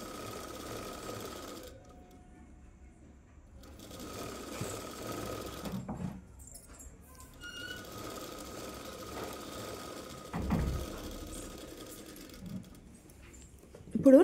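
A sewing machine double-stitches a dress seam in rapid mechanical bursts that start and stop, with a quiet room and occasional handling knocks between runs.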